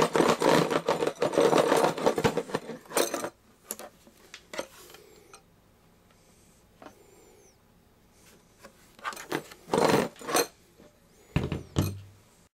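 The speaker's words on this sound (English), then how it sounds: "I'm pretty sure it's not normal that there should be things rattling around inside of a portable worklight." Loose broken parts rattle and clatter inside a Klutch 30 LED cordless worklight, bursts of close, sharp knocking shaken in spurts with quiet gaps between.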